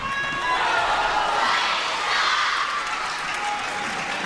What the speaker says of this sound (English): The crowd now growing louder, chanting the name of Sun Yingsha.